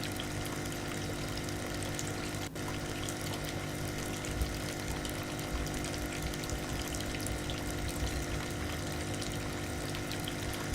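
Agitated water churning in metal tanks in the game Kentucky Route Zero, a continuous, dense watery rush with a pumping hum, steady and unbroken with one brief knock.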